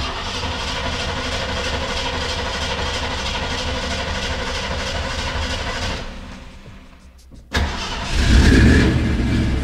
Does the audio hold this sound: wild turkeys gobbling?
no